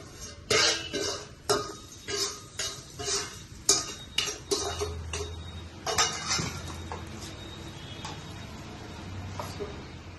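Tempering is poured into curry leaf chutney and stirred with a spoon, giving a run of sharp, close metallic clinks and scrapes against the bowl. A low background hum sits underneath.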